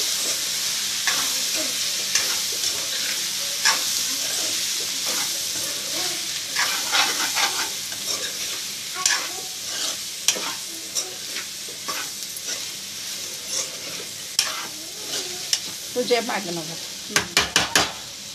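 Ivy gourd fry with chili powder and turmeric is stirred in a pan, a soft continuous sizzle broken by scraping strokes, with sharper clinks of the utensil against the pan toward the end.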